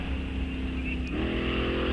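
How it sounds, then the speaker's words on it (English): A dragster at a fall drag race meet at Rock Falls Raceway, its engine held at a steady loud drone, then the pitch climbs slightly as the driver works on and off the throttle, continuous and close. "Pedaling that dragster down in the left lane. On and off the loud pedal."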